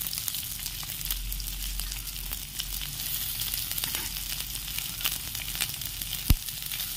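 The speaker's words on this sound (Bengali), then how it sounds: "এরপর পেঁয়াজটা দিয়ে দিচ্ছি।" Onion frying in a pan gives a steady soft sizzle with scattered crackles and one sharp tap near the end, faint and close, without any talk.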